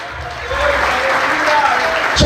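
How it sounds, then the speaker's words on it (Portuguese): Church congregation applauding during a Portuguese-language sermon, a steady dense wash of clapping filling the room with a voice or two audible underneath. "Você pode aplaudir e exaltar o Senhor por isso."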